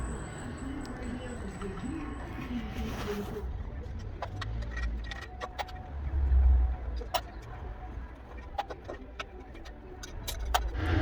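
Metal parts clink and tap sharply as the inlet manifold comes off a KV6 engine, after its seven 10mm bolts are removed during a stripdown, with scattered close clicks and clatter over a low background rumble.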